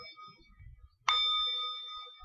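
A single bell is struck once, giving a clear ringing tone that decays slowly, preceded by a faint low rumble.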